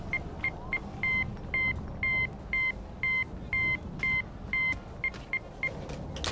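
A phone in the video game Shaolin Shuffle beeps out Morse code, a rhythmic series of short and longer electronic tones over a low rumbling background, clear and fairly loud.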